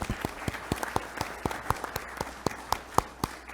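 An audience at a political forum claps for a speaker, a thin, fairly steady patter of individual handclaps from a modest crowd, heard at moderate distance with no talking.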